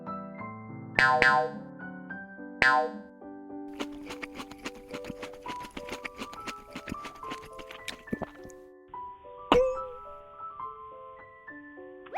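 Two sharp cartoon bonk hits ring out early, followed by quick ticking and clip-clop effects and a springy boing, all playful and close.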